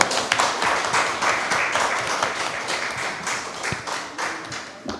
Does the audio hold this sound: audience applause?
yes